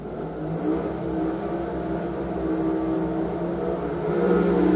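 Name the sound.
drag racing car engine revving before the start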